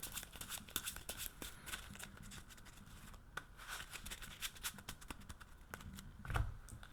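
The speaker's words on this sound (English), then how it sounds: "Show you guys the shuffling." Steady, continuous riffling of a deck of trading cards being shuffled up close, a dense papery flutter with no talking.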